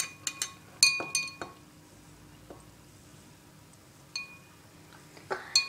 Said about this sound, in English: We've got to stir it very gently.